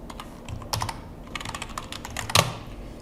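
Close computer keyboard typing as a username is entered for a hosting login, with quick irregular key clicks in short clusters and one louder tap near the end.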